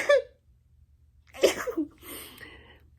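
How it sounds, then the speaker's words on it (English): A single sharp sneeze bursts out near the mic at the start, followed after a pause by soft breathing and faint murmuring sounds. "Oh, I'm going to sneeze."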